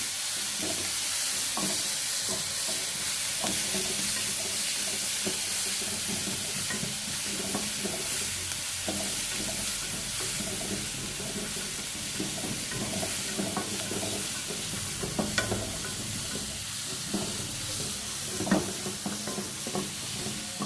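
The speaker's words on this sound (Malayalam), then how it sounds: "ഇടിച്ചു വെച്ചിട്ടുള്ള മുളകും ഉള്ളിയും കൂടെ ചതച്ചത് ചേർക്കാം" Crushed chili and shallots fry and sizzle steadily in a pan with curry leaves, while a utensil stirs and scrapes in scattered clicks over roughly twenty seconds; no one speaks.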